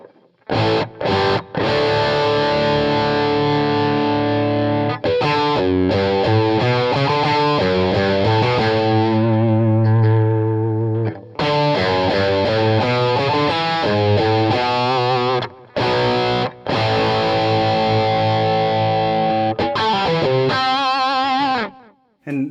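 Electric guitar driven through a Jackson Audio Prism treble boost pedal, loud and saturated with a bright, singing distorted tone, playing sustained lead lines and chords in several phrases separated by brief pauses.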